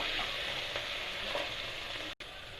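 Vegetables for veg pulao sizzle steadily in a hot pressure cooker as they are stirred, a continuous crackling frying sound with no talking.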